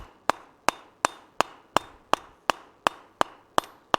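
Hand hammer striking hot steel on an anvil while forging a candlestick, concaving the sides; eleven sharp ringing blows in a steady, even rhythm, close and clear with nothing else over them.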